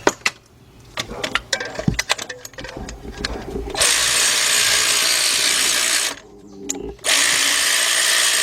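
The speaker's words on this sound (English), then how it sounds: "just go with the ratchet" A ratchet wrench works a bolt on a BMW alternator bracket with quick, close clicking strokes, followed by a loud, steady whooshing noise that briefly drops out before resuming.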